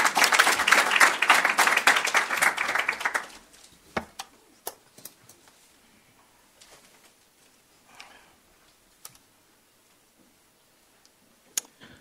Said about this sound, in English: And now we give another big applause to Elhanan Heltman.